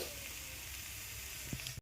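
Two kinds of leafy greens sizzle steadily in a pan with a little onion and chili, a close, even frying hiss throughout with a couple of small stirring knocks near the end.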